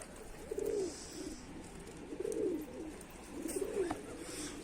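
Pigeons coo in a loft, three rolling low calls spaced about a second and a half apart, close and clear over faint background noise with no talk.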